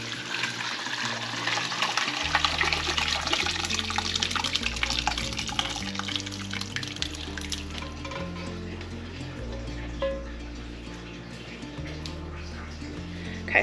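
Whey drips and streams from clabbered milk curds hanging in cheesecloth over a colander, a steady trickling and splashing of liquid heard close up, with music playing underneath throughout.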